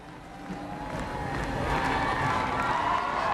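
A crowd of supporters at campaign headquarters in New York City on a 2000 election night, heard as a dense, distant roar of voices and cheering that swells gradually louder over the span, with no clear speech standing out.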